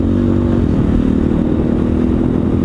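SWM SD 650 X motorcycle riding on dirt, its engine drone loud and steady with a continuous low rumble and some clatter, close to the microphone.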